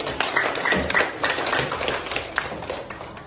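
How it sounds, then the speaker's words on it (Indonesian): A school class claps hands together during a morning lesson, a short burst of quick, overlapping claps at moderate loudness with faint voices mixed in. "Tepuk tangan dulu."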